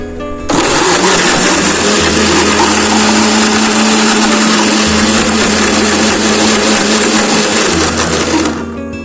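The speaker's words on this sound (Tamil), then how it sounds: "இப்போ இதை ஒரு மூடி போட்டு அரைச்சி எடுத்துகிட்டு வந்துடலாம்" Electric blender whirs steadily as it grinds banana, dates and nuts into a thick Kerala-style Sharjah shake, a loud continuous motor drone with an even grinding texture that holds unbroken for about eight seconds.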